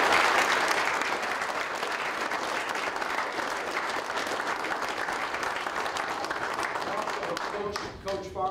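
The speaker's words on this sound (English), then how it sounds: "So another round of applause for these kids." A school board meeting audience applauds students with steady, dense clapping that fills the room evenly, then thins out and stops near the end as a voice begins.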